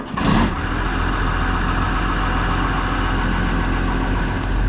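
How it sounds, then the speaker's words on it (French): Combine harvester engine warming up during a faba bean harvest, a steady loud idling drone held throughout after a brief noisy burst at the start. "Pendant que la batteuse chauffe"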